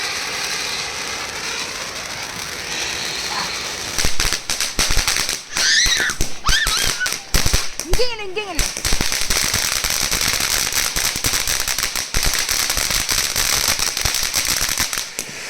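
Rapid bursts of firecrackers at a Chinese New Year celebration in China pop and crackle loudly, dense strings of sharp bangs over steady crackling, with a few whistling rises in the middle.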